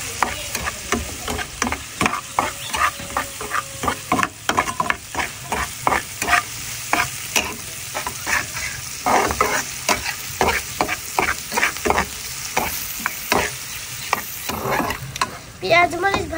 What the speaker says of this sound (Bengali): পেঁয়াজ কুচি দিয়ে দিচ্ছি, মরিচ কুচি দিয়ে দিচ্ছি। তো এবার সুন্দর মতন ভেজে দিচ্ছি।